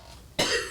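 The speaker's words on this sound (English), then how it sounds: "I'm going to cough because the Oreo cookie is there." A single short, sharp cough bursts out close up after a quiet moment.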